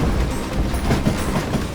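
Train rolling along the tracks in Call of Juarez Gunslinger, a loud, close rumble with rhythmic clickety-clack from the wheels and no talking.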